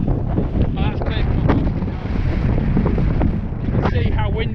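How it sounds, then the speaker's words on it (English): Strong wind buffets the microphone on the Pen y Fan summit ridge, a loud continuous roar filling the whole stretch, with faint voices underneath. "As you can see, it's still really windy, still really cloudy."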